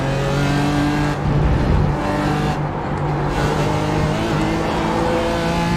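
A BMW GT4 race car engine in iRacing drones loud and close, its steady tonal whine holding nearly constant with brief dips as it runs without a break.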